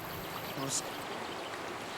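The Buller River flows out of Lake Rotoroa in New Zealand, a steady rushing stream of water heard at moderate distance, with faint background noise.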